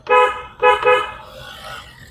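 A car horn honks twice in quick succession, loud and close, in traffic during a driving lesson, followed by a quieter stretch of engine noise.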